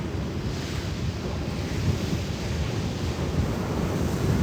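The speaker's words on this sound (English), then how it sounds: "I'm at the beach, Kathy." Ocean surf rolling onto a beach, a steady loud wash of breaking waves mixed with gusty wind buffeting the microphone, with no voices.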